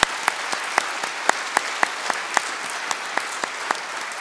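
Audience at a conference closing plenary claps for the students, a sparse, evenly paced run of sharp, distinct claps rather than a dense roar, moderately loud, with no talk over it.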